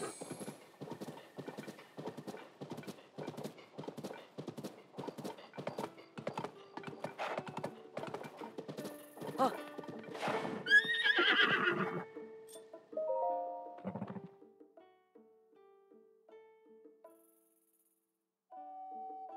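Horse from the video game Zelda Tears of the Kingdom, with a steady run of clip-clopping hooves followed by a loud neigh and whinny, then quieter game sounds.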